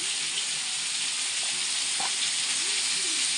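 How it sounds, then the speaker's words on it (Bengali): Meat frying in a pan with chilli powder being added, giving a steady, loud broadband sizzle throughout with a few brief clinks and stirring scrapes near the middle. "পরিষ্কার করে রাখা এই মাংসটা আমি এবার একটু দিয়ে দেব।"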